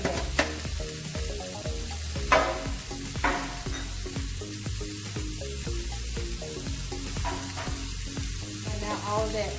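Lobster and shrimp sizzle steadily in a frying pan, a loud continuous crackle with occasional sharper pops and stirring clatter, no one talking.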